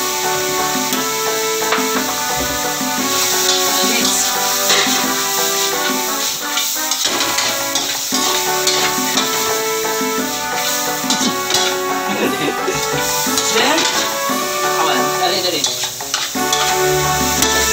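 Lo mein noodles, vegetables and chicken are stirred and fried in a hot pan with a loud, continuous sizzle and repeated scraping and clattering strokes of the spatula.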